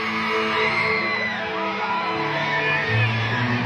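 A live concert crowd at a band's performance shouts and whoops together in a dense, sustained roar that fills the whole stretch at steady loudness.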